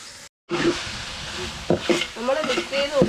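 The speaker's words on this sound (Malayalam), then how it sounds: "നന്നായിട്ടൊന്ന് മിക്സ് ചെയ്ത് എല്ലാം കൂടി ഒന്ന് യോജിപ്പിച്ചെടുക്കാം" Garam masala is stirred into kappa biriyani with chicken in a pan, making close sizzling and scraping strokes. After a brief silent gap the stirring goes on, with a voice talking over it at times.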